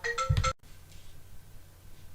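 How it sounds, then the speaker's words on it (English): A phone rings in a short burst of bright electronic tones that cuts off abruptly after half a second, leaving a quiet room with faint background hiss. "there goes that phone again"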